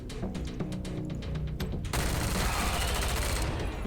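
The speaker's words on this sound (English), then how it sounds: "Suppressing fire." Suppressing gunfire in the Wasteland 3 video game: a rapid string of sharp shots turns into a loud, dense, sustained burst of automatic fire that holds steady to the end.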